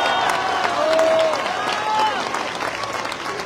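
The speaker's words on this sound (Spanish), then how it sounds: "Fuerte el aplauso." Audience at a political information assembly in Tepeaca applauds loudly and steadily, with cheering and a whistle rising above the clapping before it eases slightly toward the end.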